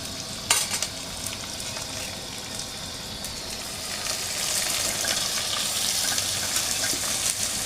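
Sliced onions with salt frying in a pan, giving a loud, continuous close sizzle that swells and grows brighter partway through, with a sharp clink near the start.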